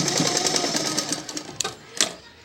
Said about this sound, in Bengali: বডির ঠিক এই মুখটার এই গলার পাটটা ধরে আমি এই জায়গাটা আর একবার সেলাই করে নিচ্ছি,